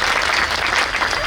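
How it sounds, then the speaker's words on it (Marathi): An audience at a devotional kirtan gathering claps loudly and continuously in a dense, even burst of applause that lasts only a moment. "त्यांच्या जोगासाठी एकदा जोरात टाळ्या वाजवा"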